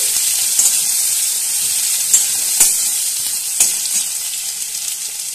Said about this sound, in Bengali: তো এর সাথে আমি পেঁয়াজটা ভেজে নিচ্ছি।